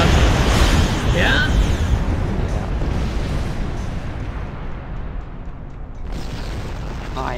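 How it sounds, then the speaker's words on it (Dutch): Explosions in the Star Wars Online video game roar loudly and steadily for several seconds as a deep rumbling blast, with talk faintly mixed in. "Ja, ik zie de ontploffing."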